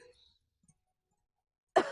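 A woman with shortness of breath lets out a single sudden cough at the end, loud and close after near silence and a few faint background sounds.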